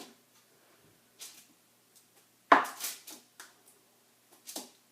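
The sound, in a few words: knife cutting wax melt loaves into slices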